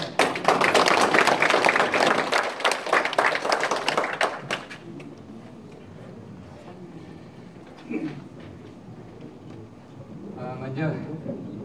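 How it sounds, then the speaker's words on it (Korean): Audience applause welcoming the deputy mayor to a special exhibition opening: dense, loud clapping fills the first half, then fades into room murmur with a few scattered sounds. "큰 박수로 맞이해 주십시오."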